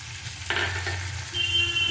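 Prawns frying in a pan for a tangy dish with brinjal and raw mango, a steady close sizzle with a sharper burst of hissing as food is stirred or added midway.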